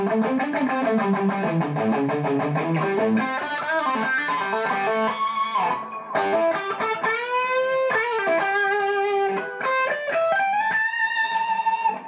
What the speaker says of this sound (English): That's without, and this is with the Bad Monkey.